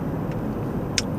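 Interior hum of a moving Mercedes C-Class W204, a steady low road and engine drone with one brief sharp click near the end.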